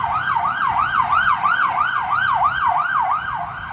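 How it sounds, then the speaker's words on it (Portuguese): An ambulance siren wails in a steady, regular up-and-down sweep as it passes nearby, loud and continuous over low road rumble, with no talking. "Mas tá passando uma ambulância aqui."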